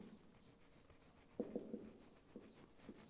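Chalk taps and scratches across a board in a few short, quiet strokes, with a small cluster of firmer taps in the middle and faint room noise between them.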